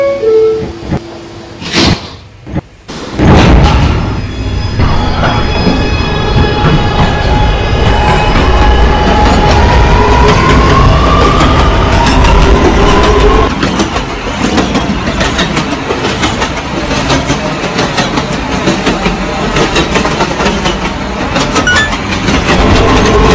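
Simulated R211A subway car on the A train in the game Transit City 3, rolling steadily with a continuous loud rumble and faint rising motor whine after a brief opening burst, no voices.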